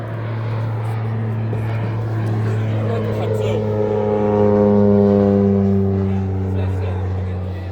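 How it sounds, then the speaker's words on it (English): Propeller airplane performing aerobatics overhead at an archaeological site, a droning engine whose pitch sweeps and swells as it passes, fairly loud, with a person talking underneath. "It's a bit of aerobatics."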